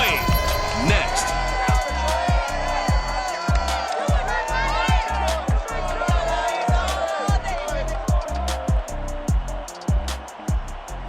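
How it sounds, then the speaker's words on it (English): Stadium crowd at Ford Field in Detroit within the Madden NFL 22 video game, Seahawks against the Lions: a steady, loud roar of many voices with scattered whoops and cheers, punctuated by regular thumping beats throughout. "A good crowd on hand and seemingly ready to go in the Motor City."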